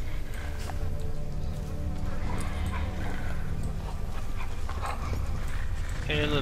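A dog in the Dishonored video game, in a kennel area, gives small whimpers and yips amid steady game ambience and footstep-like clatter, with a brief sharper sound near the end.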